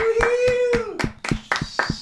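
Hands clap for a guest on a Spanish-language talk show, sharp claps in an uneven rhythm under a sustained voice that cheers and then trails off, with more claps toward the end.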